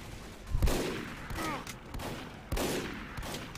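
A sniper rifle fires at an engineer in the shooter game Team Fortress 2, with two sharp, echoing shots a couple of seconds apart against faint game background noise.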